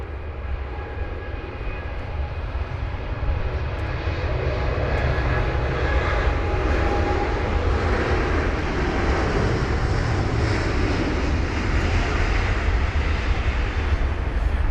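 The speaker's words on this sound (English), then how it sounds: "Now this is BA225, the British Airways 7878 Dreamliner with the reg Golf Zulu Bravo Juliet Bravo off to New Orleans." A British Airways Boeing 787 Dreamliner departs Heathrow on a wet runway, its jet engines a loud, continuous roar mixed with spray hiss that builds and holds close by.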